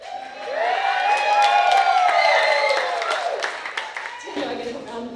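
Wedding guests in Durham, NC applaud and cheer, a dense wash of clapping with whoops rising and swelling for a few seconds before tapering off as a voice begins speaking.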